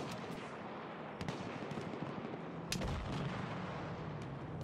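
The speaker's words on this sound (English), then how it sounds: "He's shooting at us." Battlefield 1 gunfire crackles through a busy battle soundscape, with scattered sharp shots and a louder burst near the middle over steady rumbling background noise.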